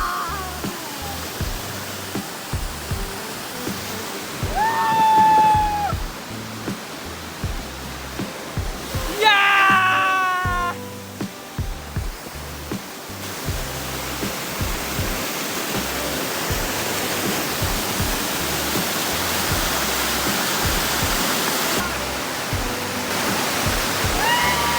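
A hidden waterfall below Kamandurg fort roars steadily up close, a dense continuous rush, while people's voices and brief whistle-like calls rise over it now and then.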